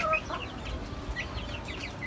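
Chickens on a rooftop garden cluck softly while being given liquid medicine straight into the beak, with a few short high calls over a steady low background rumble.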